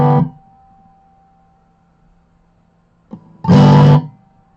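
An acoustic guitar fitted with a K&K Ultra Pure Mini pickup rings through a small amp with the volume cranked: a strummed chord decays into a sustained hum, then a second loud strum sounds.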